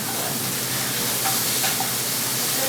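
Meat sizzles steadily in a hot pan while a spatula stirs it, a dense continuous hiss with a few faint scrapes and clinks.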